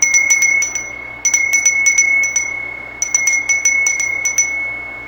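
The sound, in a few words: ritual bell rung for a Yule ceremony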